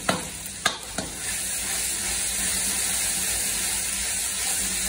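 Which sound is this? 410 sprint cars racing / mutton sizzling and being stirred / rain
mutton sizzling and being stirred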